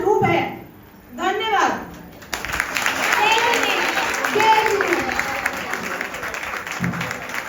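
A seated audience at a stage programme of short devotional plays breaks into sustained applause after a brief speech opening, the clapping dense and steady with a voice briefly audible at the start.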